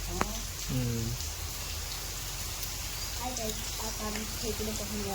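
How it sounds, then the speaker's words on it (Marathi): Heavy rain pours outdoors in a steady, dense hiss throughout, with voices talking over it at moderate volume. "आता पाऊस चालू आहे अजून भेटतील जोरदार पाऊस"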